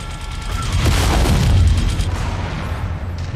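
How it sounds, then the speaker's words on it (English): Mech machine guns firing in MechWarrior 5, a loud continuous burst of rapid gunfire blended with booming impacts and mechanical clatter, close and unbroken for a few seconds. "No reason not to be firing the machine guns"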